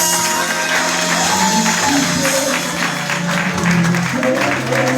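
A church congregation applauding and cheering loudly and continuously, with voices mixed into the sustained roar.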